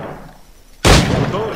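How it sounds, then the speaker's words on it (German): A pistol shot from the Assassin's Creed IV Black Flag video game cracks out loud and sudden after a quiet lead-in, trailing into a rumbling decay. "die Pistole hat vier Schüsse anscheinend"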